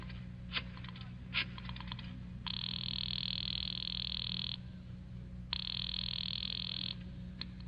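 An old telephone rings in a 1943 suspense radio drama, two long, loud bursts of ringing separated by a short pause, preceded by a few faint clicks over a low, constant hum.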